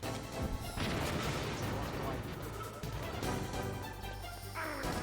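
A big laser weapon firing in the video game Metal Gear Solid, heard as a dense, sustained, rumbling blast with crashing booms that fill the whole stretch at moderate level.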